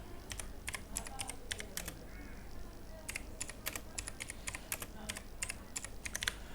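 Typing on a computer keyboard: bursts of quick key clicks come in irregular clusters with short pauses, close and clear over a low background hum.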